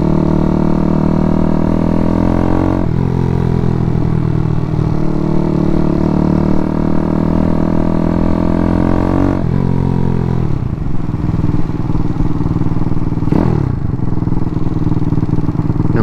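Daytona 212cc engine on a Grom clone motorcycle on its first start and ride, running loud and close with a steady buzzing drone broken by several sharp throttle blips and rev drops.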